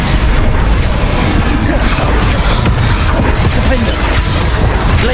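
Explosive Bombarda spell blasts in a Hogwarts Legacy combat scene, a dense run of booms and crashing impacts that stays loud and continuous throughout, with a voice partly buried in the din.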